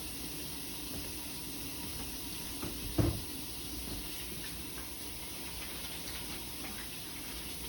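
A kitchen tap runs steadily as hands are washed during fried chicken prep, a continuous faint watery hiss with a brief louder splash near the middle, no voices.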